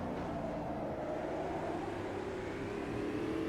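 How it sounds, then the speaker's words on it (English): A race car in Automobilista 2 with no ABS or traction control, its engine droning steadily at high revs with pitch shifts as it changes gear and slows under braking, loud and continuous from onboard. "Up into 6th gear, braking hard, no ABS, no traction control in these guys."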